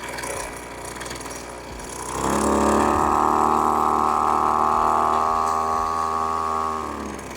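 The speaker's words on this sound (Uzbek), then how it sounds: "qurilma оборотini, ya'niki dvigatel оборотini ko'taraman." Petrol-powered high-pressure pesticide sprayer engine idling roughly, then revving up near the two-second mark into a loud, steady high-pitched drone that holds for several seconds before easing slightly at the end.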